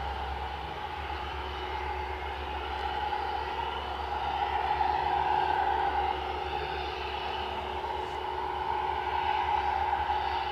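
Airbus A320 arriving from Bristol at Edinburgh airport, a steady broad jet roar with a low rumble and a sustained mid tone, moderately distant and swelling slightly midway through, with no talk.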